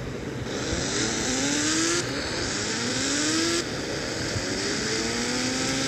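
A Ghost Rider motorbike in a 3D driving video game revs in repeated rising engine whines, each climbing in pitch before it shifts and resets, clean and synthetic-sounding.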